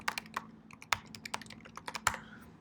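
Quick, light keystrokes on a computer keyboard as a name is typed, about a dozen irregular clicky taps over a couple of seconds, close and quiet with no talking.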